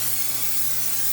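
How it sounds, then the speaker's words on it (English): Cooking spray from a can sprayed into a pan, a steady close hiss lasting about a second. "I'm sure I get at least a couple calories in the amount of spray that I use"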